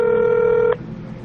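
A single steady dialing tone from a telephone call to Converse Korea customer service holds loud and close for most of a second, then cuts off into quiet line hiss.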